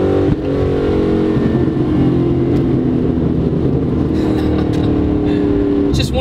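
A 2004 Ford Mustang Mach 1 engine and exhaust rumble steadily and loudly up close, holding a deep, sustained drone with a few sharp crackles near the end, and voices talk faintly underneath.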